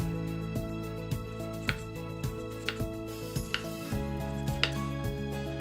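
A knife slicing the skin off a melon on a cutting board, a series of crisp, regular cuts and taps landing about every half second, close and fairly quiet, with no voices.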